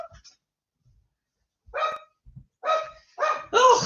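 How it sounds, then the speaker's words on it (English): Dogs bark indoors, a few sharp barks after a quiet start, growing louder and closer toward the end in quick succession. "the dogs bark"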